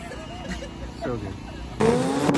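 A Honda CRX drag car with 1,000 horsepower and a 62 mm turbo at a drag strip, its loud engine roar bursting in near the end after a quieter stretch, with voices talking over it.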